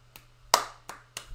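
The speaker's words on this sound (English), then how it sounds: "Don't clap near the mic." Several sharp hand claps very close to a microphone, four separate hits with one loud dominant clap, spaced unevenly over a steady low hum.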